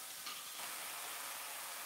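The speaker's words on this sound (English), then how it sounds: "By frying up the ginger and garlic, by frying up the sambal" Ginger, garlic and sambal fry in a pan for a curry paste, giving a steady, close crackling sizzle that holds level for the whole two seconds with no voices over it.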